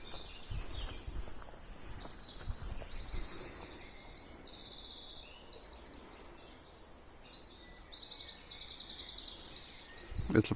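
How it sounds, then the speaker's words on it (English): Blackbird calling and singing near a footpath by a river, repeated bright chirping phrases throughout at moderate distance, with light outdoor background noise. "Little blackbird, I think, there, just in the middle of the footpath."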